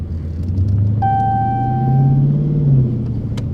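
A Dodge Charger with automatic transmission pulls away as the driver presses the gas, giving a steady low engine rumble that swells briefly. A faint tonal whine rises over it and fades.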